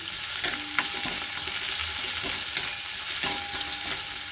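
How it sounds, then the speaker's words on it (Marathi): Chopped onion and a green chilli sauté in a pan with peanuts, giving a steady bright sizzle with a few soft spoon stirs and taps throughout. "आता याच्यामध्ये आपण टाकूयात बारीक चिरलेला कांदा, 1 हिरवी मिरची"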